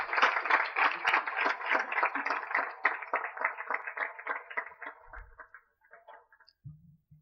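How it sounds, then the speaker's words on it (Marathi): An audience at a book launch bursts into vigorous applause, dense rapid clapping that swells at once and slowly thins out over several seconds before a couple of dull thumps. "आपण सगळे एकदा जोरदार टाळ्या वाजवून अभिनंदन करू"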